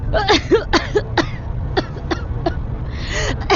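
A series of harsh, hacking coughs in quick bursts, close by, with short pauses between clusters.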